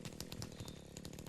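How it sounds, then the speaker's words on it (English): A chainsaw cutting into a tree in a tree-chopping video game gives a quiet, steady engine buzz with rapid rhythmic pulses throughout, heard alone without talk. "The chainsaw sound."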